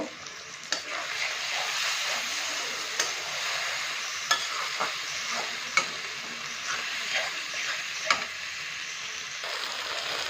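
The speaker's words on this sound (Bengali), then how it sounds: "দিয়ে দেবো হলুদ দিয়ে মশলাটা ভালো করে কষে নেব" Spice paste with salt and turmeric fries in a pan for a fish-head cabbage dish, giving a steady close sizzle broken by sharp spatula clinks as it is stirred.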